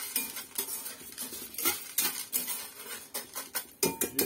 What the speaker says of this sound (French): on va mélanger les popcorn dans l'huile